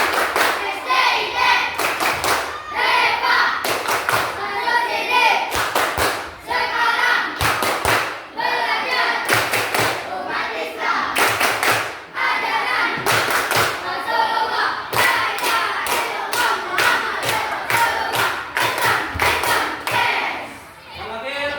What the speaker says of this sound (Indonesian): Kita coba tepuk dulu. Tepuk SDIT Reva.